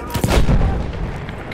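A grenade goes off in Battlefield 1 with a loud, close blast, followed by a rumbling tail that fades over the next second.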